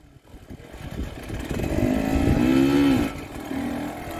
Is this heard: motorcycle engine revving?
yes